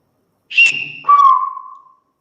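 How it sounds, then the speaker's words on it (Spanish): A Silbo Gomero whistled-language phrase for the number five: a clear high whistle that drops to a lower sustained tone, loud and close against silence. "ahora vas a silbar otro número y tenemos que a ver si entendemos el número que estás silbando"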